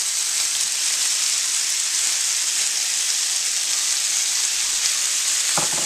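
Shrimp hit a hot pan with seasoned beef and fry with a loud, steady, dense sizzle close by, continuous throughout with one soft knock at the end.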